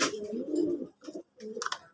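Pigeons coo close by in an indoor pigeon room, a low throaty call followed by a few shorter, softer coos, with no talking.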